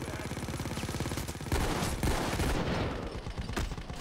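Rapid SMG gunfire from Payday 2 rattles in fast, evenly spaced bursts, with a steady automatic stream followed by louder, heavier shots and impacts layered over the shooting.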